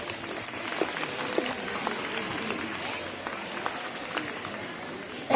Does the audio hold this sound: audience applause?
yes